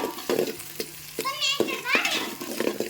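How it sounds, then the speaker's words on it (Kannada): Onions fry and sizzle in a pan as they are stirred, with scraping strokes and clatter. Children's voices rise and fall in the background throughout. "ಉಳ್ಳಾಗಡ್ಡಿ ಸರಿಯಾಗಿ ಫ್ರೈ ಆಗಬೇಕು"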